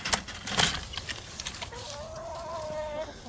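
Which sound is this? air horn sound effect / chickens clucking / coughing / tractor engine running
chickens clucking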